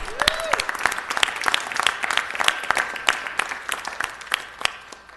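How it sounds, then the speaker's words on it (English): Applause at a city council meeting, a modest group of individually distinct, sharp claps in an uneven patter, moderately near, lasting throughout. "let's give him one more round of applause"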